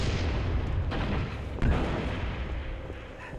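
Grenade launcher blasts in Halo Reach, with dull booming explosions, one sharper thump near the middle, over a constant rumbling battle din.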